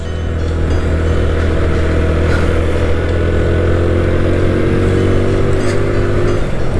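A motorcycle ridden up a steep mountain road on the way to Sajek, its engine droning steadily and loud with a low, continuous hum and slight rising revs toward the end, no voices.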